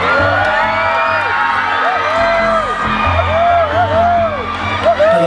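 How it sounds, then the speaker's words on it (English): A loud crowd of beauty pageant supporters cheers, whoops and shouts continuously, with high yells rising over the din and a voice speaking through it. "They're shouting so loud and so proud for you."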